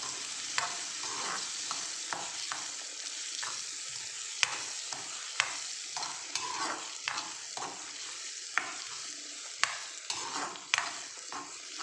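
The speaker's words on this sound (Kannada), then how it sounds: "ಅದನ್ನೆಲ್ಲ ಹಾಕಿ ನೀಟಾಗಿ ರೀತಿ ಫ್ರೈ ಮಾಡ್ಕೊಳ್ಬೇಕು" Sweet corn fried rice mixture being stir-fried in a pan, a soft continuous sizzle broken by frequent scraping strokes of a spatula, close and fairly quiet, with no voices.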